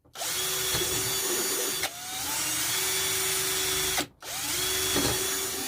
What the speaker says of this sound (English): So I'll have to do them with a battery drill.